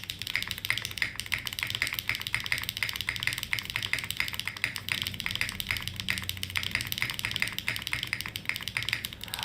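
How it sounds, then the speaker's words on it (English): Dense, steady typing on a custom mechanical keyboard, its soft muted keystrokes clicking in quick continuous runs, close up and alone without any talk. "the typing experience is really, really soft"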